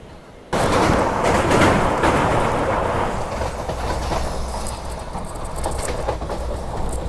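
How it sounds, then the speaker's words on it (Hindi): A train passes close by on the Mumbai–Ahmedabad railway line, a loud sustained rumble and rattle of wagons starting abruptly and continuing steadily to the end. "इस तरफ से कोई तो ट्रेन जो है वो आ रही है"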